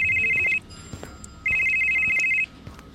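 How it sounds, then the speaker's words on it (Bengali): An office phone rings with two long, loud electronic tone bursts separated by a short pause, standing out clearly over a faint background. "নিজের কেবিনের দিকে আসতে গিয়ে হঠাৎ ওর ফোনটা বেজে ওঠে।"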